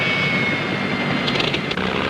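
A Rolls-Royce-powered unlimited hydroplane racing boat, the Miss Lapeer, roughly 2,000 horsepower with propeller near 12,000 rpm, roars steadily and loudly at the 1967 Gold Cup in Seattle, a continuous broad engine blare throughout.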